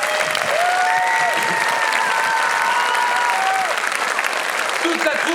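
Live stage-show audience applauding the set builders, with dense, steady clapping filling the hall throughout, a few faint tonal music lines under it and no voice on top.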